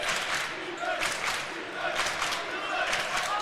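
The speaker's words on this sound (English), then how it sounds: "now the crowd getting back into it at the 4-minute mark" A basketball crowd cheers in a high school gym during a Breckenridge Cowboys vs Wahpeton Huskies game, a steady roar of voices with swelling bursts of shouting and some clapping.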